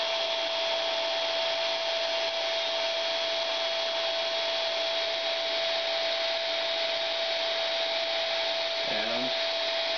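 A hot air dryer blows steadily on glass with a constant high whine and rushing air, loud and close, running unbroken throughout.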